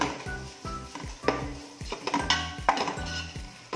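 Crushed ginger and garlic being stirred in a pan for chicken mandi, with repeated rhythmic scraping and knocking strokes of a spoon against the metal over a faint sizzle.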